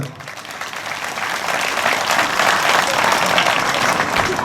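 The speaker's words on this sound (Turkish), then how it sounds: "sizlerden kuvvetli bir alkış istiyorum mümkünse" An audience claps steadily at a strawberry festival in Kurşunlu, the applause swelling slightly and holding dense and sustained throughout, with no clear voices above it.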